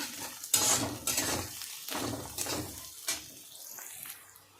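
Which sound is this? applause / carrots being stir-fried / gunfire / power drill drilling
carrots being stir-fried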